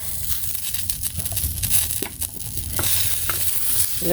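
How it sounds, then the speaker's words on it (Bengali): Garlic fries with chili peppers in a pan, making a close, crackling sizzle broken by rough scraping and stirring strokes that rise and fall. "রসুনটা একটু মরিচের সাথে ভেজে নিই"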